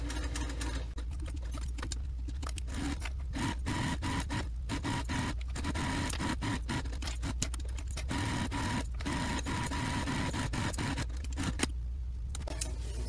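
A sewing machine stitches a bag strap at stitch length 3, a soft continuous mechanical whirr broken by frequent short pauses and restarts, fairly quiet and close, with no talking.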